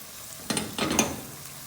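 Green chilies and ginger garlic paste sautéing in a pan for an aloo sabzi, giving a soft background sizzle broken by two short bursts of stirring scrapes.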